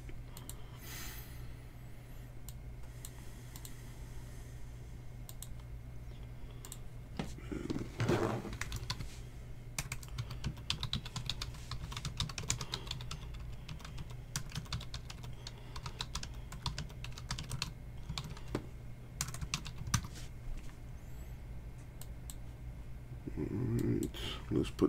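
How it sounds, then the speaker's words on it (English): Computer keyboard typing runs steadily over a constant low hum, with clicks clustering in bursts and a voice speaking at times in the background. "Let me just type this up real quick."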